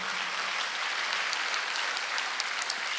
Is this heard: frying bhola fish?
no